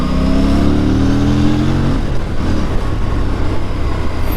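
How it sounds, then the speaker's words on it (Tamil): A 2024 Yamaha R3 motorcycle ridden hard, its engine note climbing loudly and then dropping as gears change, followed by a rough, steady rumble mixed with road and wind noise, close and continuous. "கேட்குதா டக்கு டக்கு டக்குன்னு கியர் ஷிஃப்ட் ஆகும் பண்ணும்போது."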